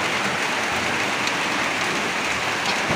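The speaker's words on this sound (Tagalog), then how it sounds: "Sobrang lakas ng ulan." Heavy rain pours steadily on New Year's Day, a dense, even hiss of drops drumming on surfaces with no break or talk throughout.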